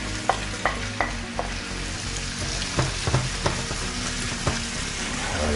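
Onion frying in a pan while being stirred, a dense close sizzle punctuated by several sharp utensil clacks and scrapes, with no speech.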